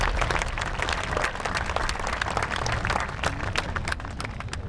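Graduation audience at the 2022 Mepham ceremony applauding families, a dense, loud, continuous burst of many hands clapping throughout.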